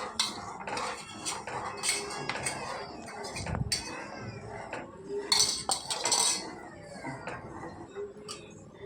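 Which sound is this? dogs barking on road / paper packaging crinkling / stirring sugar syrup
stirring sugar syrup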